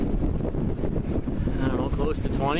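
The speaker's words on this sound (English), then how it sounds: "the wind certainly picked up 17 knots or so, gusted" Strong gusting wind of about 17 knots roars across the microphone while sailing a boat on a good tack, a steady broadband rush running under close, continuous talk throughout.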